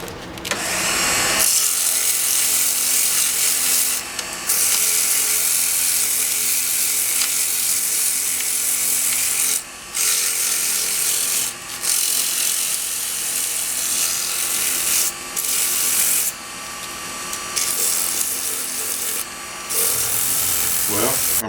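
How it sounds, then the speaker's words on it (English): Sandpaper wrapped around a spray can scrubs the inside of a handmade wooden beer stein mug, a steady loud abrasive hiss with brief pauses as the paper is repositioned. "I've got it wrapped around a spray can here, and I'm going to stick that in there and do a little final sanding with that"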